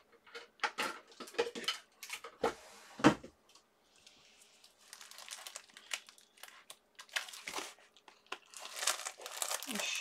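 A mail package being opened with Teflon scissors, with close crinkling and rustling of wrapping, a few sharp snips and crunches, in irregular bursts with short quiet gaps.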